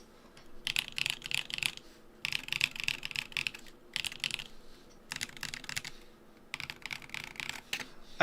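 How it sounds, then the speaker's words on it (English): Typing on a mill-maxed Iron 165 mechanical keyboard, steady bursts of close, crisp key clacks with a slightly deep tone, separated by short pauses. "I wish most of the keyboards sounded like this, to be honest."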